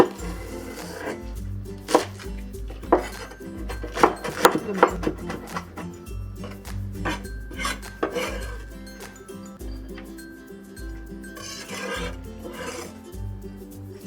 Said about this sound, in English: let's cut the onions. Cut it down in half.